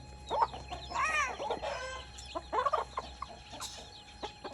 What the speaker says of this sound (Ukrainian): квочечка з курчатками і їсть